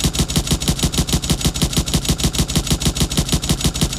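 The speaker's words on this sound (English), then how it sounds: "Now let's shoot at the turret." Projectiles fired in rapid automatic succession at a turret in an Unreal Engine 5 game, producing a loud, steady stream of evenly spaced sharp shots with no pause throughout.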